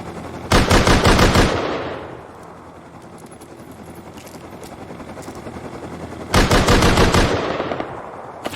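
Loud bursts of rapid automatic gunfire in a video game, two long rattling volleys separated by a quieter stretch of engine-like background hum.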